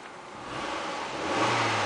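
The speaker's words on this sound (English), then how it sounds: "I'm going to rev it." A 2009 Nissan Altima 2.5 four-cylinder engine is revved while parked, its broadband roar swelling in two steps and growing louder toward the end, with no talk over it.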